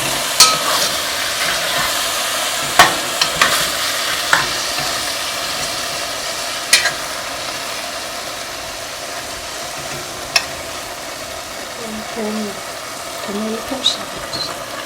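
Homemade chili with diced tomatoes being stirred in a pan, a steady sizzle running throughout with scattered sharp scrapes and clicks of the spoon against the pan.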